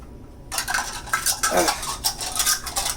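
Utensils scrape and clink against a pot in a steady, busy stirring rhythm, stirring a mixture until it boils, close and fairly loud after a brief quiet start.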